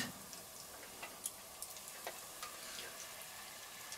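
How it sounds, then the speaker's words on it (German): Soft, steady frying sizzle of meatballs browning in a Dutch oven, with scattered light ticks and pops, fairly quiet and even throughout, no voices. "Die tun wir jetzt komplett schön anbraten."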